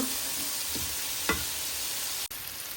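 Turmeric, chili, cumin and salt fry in a pan for a Bengali fish curry, a steady, close hiss of sizzling oil with a couple of soft stirring scrapes and no talking.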